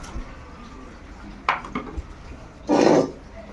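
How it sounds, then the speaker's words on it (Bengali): An iron kadai is set down on a lit clay stove. A couple of sharp metallic clanks and a short scraping rattle sound close by against quiet background noise. "এই যে আমাদের কড়াই চাপিয়ে দেওয়া হলো।"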